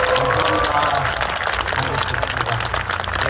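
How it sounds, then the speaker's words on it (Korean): A crowd at an evening event marking Korea's 80th Liberation Day applauds with dense, steady clapping, while a voice carries over the noise at the start. "박수 부탁드리겠습니다."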